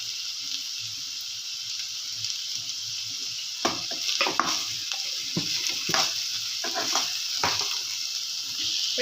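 Vegetables sizzle and fry steadily in a hot pan for soya bean rice, with a constant hiss and intermittent stirring clatters from the spatula near the middle of the clip.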